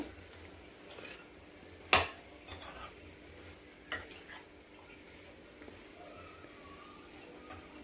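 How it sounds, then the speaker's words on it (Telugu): Curry of brinjal and dry fish stirred in a pot, with a sharp metallic clang of the lid going on near the two-second mark, then soft scrapes and a few lighter knocks over quiet background sizzle, no talk. "బాగా కలుపుకొని మూత పెట్టి మగ్గించుకుందాము."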